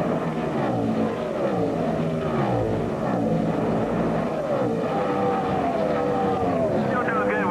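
A NASCAR race car engine at the 2005 Coca-Cola 600 drones steadily with a rough, uneven tone, going sour, its pitch rising and falling as it runs, with a voice talking over it.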